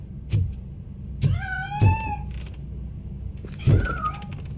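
A cat meowing in the video game RoboCop: Rogue City, three or four drawn-out, rising and falling meows spaced a second or so apart, loud and close over a low ambient hum.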